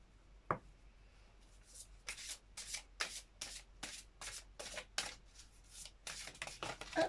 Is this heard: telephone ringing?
no